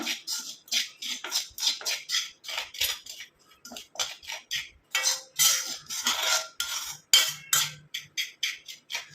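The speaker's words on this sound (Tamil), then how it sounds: "இப்போ நம்ம இந்த பொடி எல்லாத்தையும் நல்லா கலந்து விட்டுடலாம்" A spoon mixes herbal hair dye powders in a bowl, making rapid, close scraping and clinking strokes in uneven bursts with short pauses between them and no voices.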